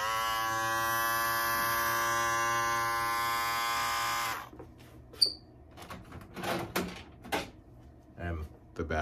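A Master electric hair clipper runs with a steady, loud, close buzz for about four seconds before switching off, followed by clicks and handling knocks as it is set down.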